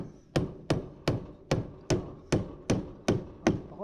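Hammer blows struck one after another at a steady pace, about ten sharp thuds in under four seconds, loud and close, during building work with no talking.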